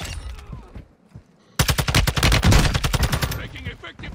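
Rapid automatic gunfire in a video game erupts suddenly after a quiet stretch, a dense burst of loud, close shots that keeps going to the end, with faint game noise before it.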